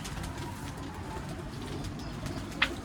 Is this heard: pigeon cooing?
yes